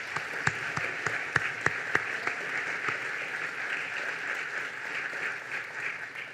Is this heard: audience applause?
yes